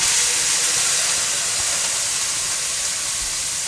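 Broccoli dropped into a very hot pan for broccoli in black bean sauce, a loud continuous hissing sizzle that holds steady throughout with no voices.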